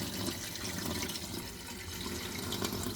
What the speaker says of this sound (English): you very gently let the paraffin oil layer with organic bits and bobs pour into the sieve